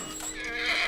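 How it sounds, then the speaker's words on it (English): A horse in The Last of Us video game lets out a close, loud whinny, rising and quavering for about a second. "I love our horse"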